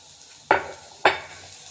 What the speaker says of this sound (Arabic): معايا هنا طاسة فيها حوالي 3 معالق زيت، وهنزل فيهم كده بفصين توم